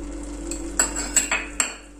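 A spoon scrapes and taps in a pan as kasuri methi and fresh coriander are mixed into a spicy mini-potato sabzi, giving several short metallic clinks over a low steady hum.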